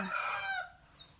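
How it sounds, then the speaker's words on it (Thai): A rooster crows loudly nearby in one long drawn-out call, with a brief higher squawk near the end. "เสียงไก่ขัน"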